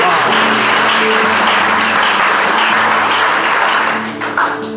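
Loud, dense applause from a church congregation during a sermon, sustained clapping for several seconds before tapering off near the end.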